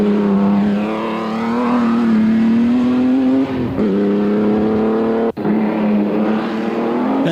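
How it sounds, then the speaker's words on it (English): Lord Howe's ERA R8C race car with independent front suspension at Silverstone, a loud high-pitched engine drone held at steady revs, briefly dipping twice as the gears change, close and alone. "Lord Howe's R8C with the independent front suspension with Bruce Spollen at the wheel."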